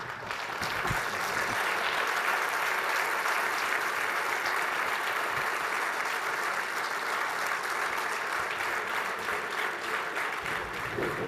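Sustained audience applause at a project management conference in India, a steady dense wash of many hands clapping that stays loud and even throughout with no voices on top.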